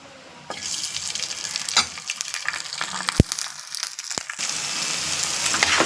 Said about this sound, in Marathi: बटाटे हिरवी मिरची मस्त तेलामध्ये फ्राय करून घ्यायचे